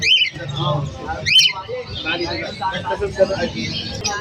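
Pigeons offered for sale at a bustling market, with brief chirps and bird calls rising over close, continuous chatter of people haggling.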